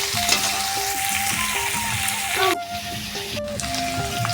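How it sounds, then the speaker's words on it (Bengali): Potatoes sizzle loudly in hot mustard oil in a pan for aloo dum, a steady close crackling fry with occasional stirring scrapes throughout. "সর্ষের তেল দিয়ে গরম করে এই যে আলুগুলো দিয়ে দিয়েছি"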